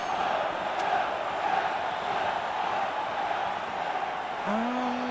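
A stadium crowd in the fantasy football video game Blood Bowl II roars steadily and loudly throughout, a dense wash of cheering that holds near-constant for the whole stretch, with a brief rising tone near the end.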